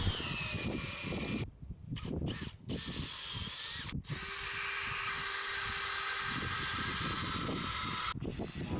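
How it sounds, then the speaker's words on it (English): Power drill boring pilot holes into timber while building a raised garden bed, a steady whining motor in long sustained bursts broken by short pauses, close and loud. "make sure you drill pilot holes because they prevent the timber from splitting"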